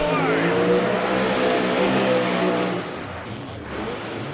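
A first-gen Camaro drag car with a ProCharger-boosted engine makes a qualifying pass, a loud sustained roar with rising pitch that drops off near the end, heard under someone talking.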